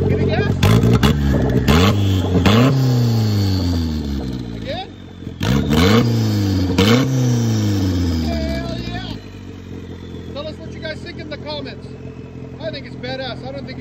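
A loud turbocharged 1991 Mazda Miata 1.6-liter engine with straight-pipe exhaust revs up and down in repeated sweeping bursts, close by, then settles to a rough idle as a voice talks over it.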